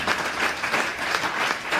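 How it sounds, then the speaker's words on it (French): A seminar audience in an Abidjan hall bursts into dense, continuous applause, many hands clapping loudly and close, with no speech. "Applaudissez très fort."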